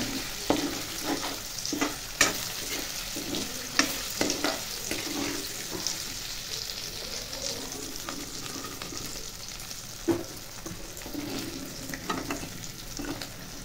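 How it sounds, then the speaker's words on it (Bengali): Paneer pieces frying in hot oil, a steady close sizzle with irregular spatula knocks and scrapes throughout, and no speech. "পনির তরকারি করবো, পনিরটা ভেজে নিচ্ছি।"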